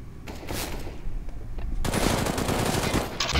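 SMG gunfire in Counter-Strike: Global Offensive, rapid automatic bursts that start sparse and then swell into a dense, continuous rattle, fairly close, with no talk over it.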